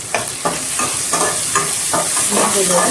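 Crushed small onions fry in a pan with salt for a one-pot drumstick rice dish, a loud steady sizzle broken by regular scraping stirs roughly every half second, with no talk.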